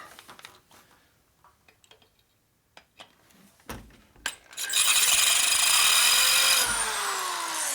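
A few sharp knocks and taps, then a brand new power drill, failing and not cutting, whirs loudly and steadily for a couple of seconds before its pitch drops as it winds down.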